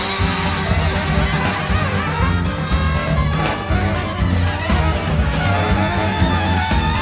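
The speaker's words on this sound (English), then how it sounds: "it's based on that early sort of big band kind of style." Early big band jazz in a swinging style, with a full ensemble of horns over steady drums and bass playing loud and dense throughout, no voices.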